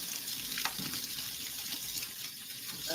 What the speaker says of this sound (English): I'm gonna turn the water down a little bit.